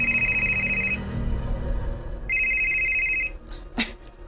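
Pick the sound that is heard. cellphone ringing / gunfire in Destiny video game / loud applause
cellphone ringing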